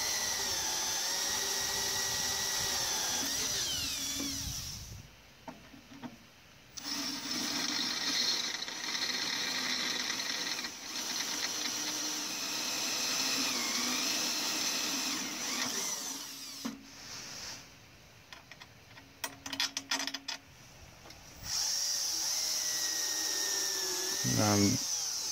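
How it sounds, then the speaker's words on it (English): Power drill boring through wood while fitting quarter-inch stainless steel bolts to a car dolly trailer ramp, a steady whining motor run that stops and restarts several times, fairly close with no talk. "I'm drilling through the wood so that it lines up."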